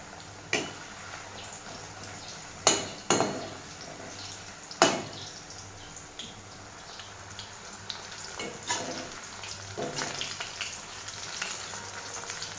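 Soybeans fry in hot oil in a home kitchen, giving a low, steady sizzle with a few sharp pops and clinks of stirring, fairly faint and without any talk.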